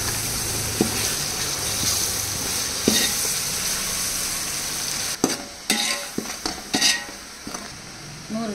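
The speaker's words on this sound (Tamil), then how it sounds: "வெங்காயம் நல்லா வதங்கிச்சு இந்த டைமில் வந்து இஞ்சி பூண்டு பேஸ்ட் வந்து போட்டுக்கலாம்" Ginger garlic paste sizzling in oil with sautéed onions in a pan for fish biryani, a steady loud frying hiss broken by several sharp scrapes and clinks of a spatula stirring against the metal.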